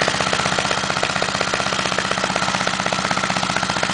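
A hybrid electric-motor bicycle runs steadily, its motor giving a fast, even mechanical pulsing that stays close and constant throughout with no talk.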